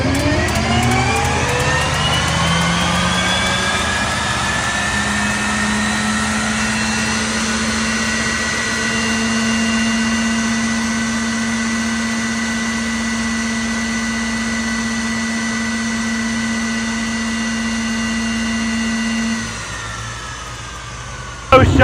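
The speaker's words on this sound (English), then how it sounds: "We got a short clip of the jet engine tractor over there running." A jet engine tractor runs steadily nearby at a pulling event, a loud continuous turbine whine with rising then sustained high tones over a deep roar, winding down near the end.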